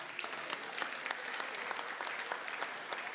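Steady applause from guests seated at tables during a year-end celebration, a dense even patter of many hands heard at a modest distance with no talking over it.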